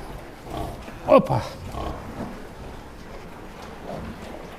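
Pigs grunt briefly around a sow's first farrowing with newborn piglets, a short close cluster of snorts under ongoing speech on the farm.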